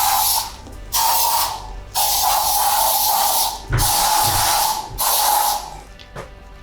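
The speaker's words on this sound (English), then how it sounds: "We now need to go through and spray any surfaces that we have touched." Bursts of Glen 20 disinfectant aerosol hiss onto touched surfaces in a washroom, five sprays of about a second each, separated by short pauses, close and fairly loud.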